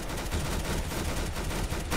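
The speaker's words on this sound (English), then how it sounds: "Who's shooting at us?" Continuous rapid gunfire from Roblox Arsenal fills two seconds as a dense, loud, unbroken rattle of overlapping shots with no talking.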